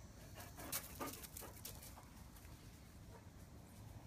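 A deaf dog whimpering and panting faintly nearby, with a few soft high whines early on, then quiet breathy panting.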